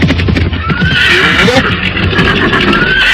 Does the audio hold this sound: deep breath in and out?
no